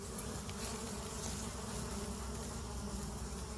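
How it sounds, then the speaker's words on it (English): A newly delivered colony of honey bees in a fresh hive gives off a continuous, soft droning buzz, steady and fairly faint, with no voices. "Probably hear them."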